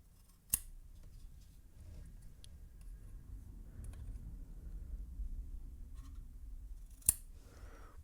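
Scissors trimming cotton wick on a vape coil deck of an MTL rebuildable tank, two sharp, isolated snips several seconds apart, close and crisp over a quiet low background hum.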